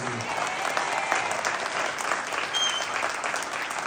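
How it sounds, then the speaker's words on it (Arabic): A live comedy crowd in Berrechid, Morocco breaks into sustained warm applause, dense and even clapping filling the space for the whole stretch, loud and continuous. "صفقوا عليه بحراره"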